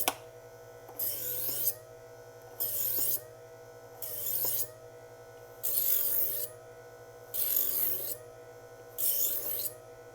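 TER electric knife sharpener on its fine stage grinds a knife blade in six evenly spaced rasping passes, each about a second long, over the machine's steady motor hum. Close and clear, with no talk.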